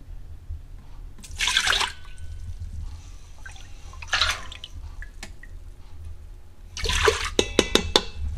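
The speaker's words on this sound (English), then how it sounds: "I'm gonna take a couple of cups of my raw milk." Raw milk poured into a container in a few short splashing streams, close and clear, with quiet gaps and small clinks between pours.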